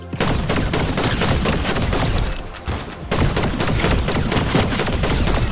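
Continuous heavy gunfire in the video game Fortnite, a dense, loud barrage of overlapping shots that barely lets up for several seconds, with no speech over it.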